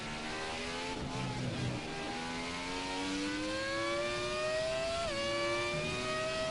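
A Formula One race car engine in F1 2017, a slidey car on a British circuit, screams steadily and climbs in pitch as it accelerates, with a brief dip around a gear change, loud and close throughout.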